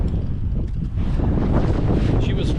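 Strong wind buffets the microphone on a lake during a fishing trip, a loud, constant low rumble with gusts and the faint slap of water around the boat.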